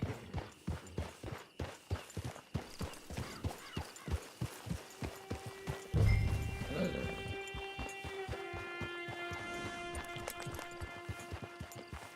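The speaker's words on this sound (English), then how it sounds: "Get your horse." Horse hooves clip-clop in a steady trotting rhythm in the Red Dead Redemption 2 video game, then stop, giving way to a low rumble and sustained musical tones.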